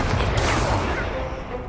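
A Confringo explosive spell goes off in the Hogwarts Legacy game as a loud, crackling blast that fades out over a second or two, with voices mixed in.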